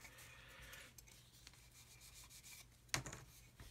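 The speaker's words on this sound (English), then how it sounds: "So give that a gentle sanding over once more." A small part of a 1/72 scale U-boat model kit is sanded gently by hand, giving faint, soft rubbing strokes, with a couple of sharper scrapes near the end.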